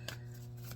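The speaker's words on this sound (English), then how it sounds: "I hardly use this deck, but I love the way it shuffles." A deck of tarot cards being shuffled by hand, a brief soft riffling rustle of card stock, close and quiet, with no talking.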